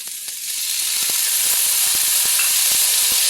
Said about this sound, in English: In a large skillet, we're just going to add our onions and garlic